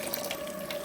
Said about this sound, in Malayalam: ഒഴിച്ചോളൂ ചിക്കൻ കറി.